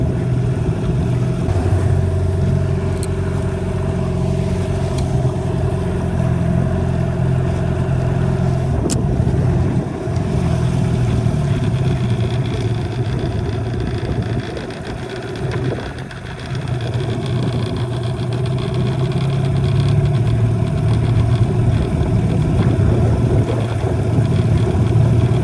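A boat's outboard motor runs steadily just above idle, a continuous low droning hum close by with slight swells in pitch and level, out on the water while bass fishing.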